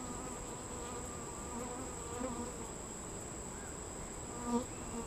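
A steady, close drone of honeybees fills an open hive as frames are inspected in summer, the buzzing even throughout with a couple of brief louder swells and no voices.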